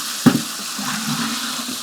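Water from a heater run off an Anker F3800 solar generator pours steadily into a bucket, an even rushing hiss after a short knock at the start.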